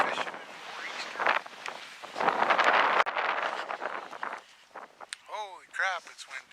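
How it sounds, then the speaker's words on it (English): Strong Nor'easter wind roars and buffets the microphone in heavy gusts on an ice fishing trip in Pennsylvania, with brief chirping sounds near the end. "holy crap, it's windy."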